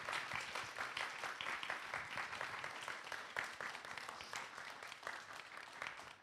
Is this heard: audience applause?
yes